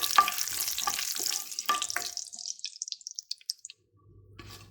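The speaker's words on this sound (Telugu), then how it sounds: "ఇప్పుడు జీడిపప్పు వేసుకొని దీన్ని కూడా ఫ్రై చేసుకోవాలి." Cashew nuts fry in a pan for a vegetable pea pulao, giving close sizzling and scraping stir sounds that thin into sparse crackles and drips before fading out.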